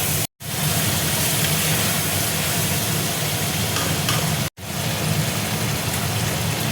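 Ground coriander, cumin and a ginger, green chilli and garlic paste fry in a pan for a prawn and ridge gourd dish, a loud, steady close sizzle broken by two brief silences.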